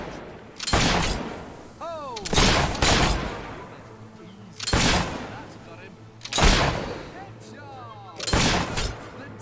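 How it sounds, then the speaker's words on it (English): Gunshots ring out in the video game Fable III as five sharp, loud reports spaced a couple of seconds apart, each trailing into a short echo, while a voice talks between them. "Wow, that's shooting. You handle that gun."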